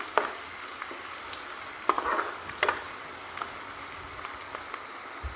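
Thinly sliced tomato and spices cooking in oil for a mutton curry, a gentle crackling fry with occasional stirring scrapes and sharp ladle taps.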